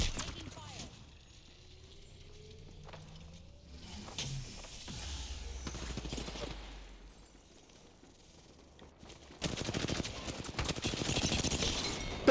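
Gunfire in an Apex Legends ranked match, rapid muffled shots and weapon mechanisms in scattered bursts, growing louder and denser in the last few seconds, with occasional game voice lines.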